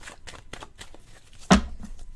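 Tarot cards shuffled by hand in quick riffling bursts, ending in one loud, close slap as the deck is squared, with nobody talking.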